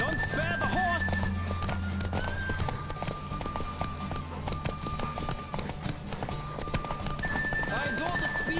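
Rapid hoofbeats of a galloping horse in The Witcher 3: Wild Hunt, rhythmic clip-clop with an occasional whinny, accompanied by game-style sounds and some voices.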